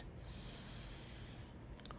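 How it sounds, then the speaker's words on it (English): Alternate nostril breathing during a meditation sit, one long, close, airy breath drawn steadily through a single nostril, with no talk. "We can experiment with alternate nostril breathing"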